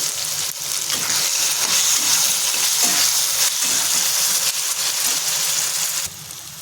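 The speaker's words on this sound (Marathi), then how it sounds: "टोमॅटो टाकून तो सुद्धा आपल्याला परतून घ्यायचा आहे" Tomatoes sauté in a pan for a kantoli wild vegetable dish, producing a continuous close sizzle with occasional stirring scrapes, dropping to a quieter hiss near the end.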